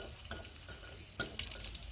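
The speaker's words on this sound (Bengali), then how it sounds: "এইভাবে লাল করে ভেজে নিচ্ছি" Quiet sizzling of lentil dumplings frying in oil in a pan, with a few soft scrapes and stirring clinks of a utensil against the pan.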